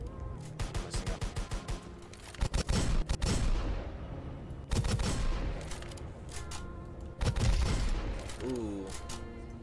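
Rapid bursts of gunfire from a video game come in several loud volleys, with sharp repeated shots at the start and heavier blasts later, alone without any voice.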